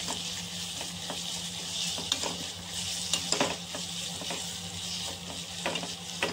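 Drumstick leaves frying in hot oil for a tomato masala, a steady close sizzle with soft crackles and occasional stirring clinks throughout, no talking.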